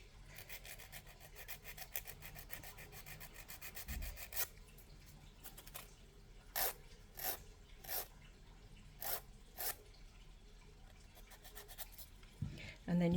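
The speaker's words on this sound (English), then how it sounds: "Get your file and your buffing block ready. And just go round that edge there." A nail file rasps around the edge of dip powder nails in quick, faint, close strokes. Short scratchy bursts follow near the end, and quiet talk runs underneath.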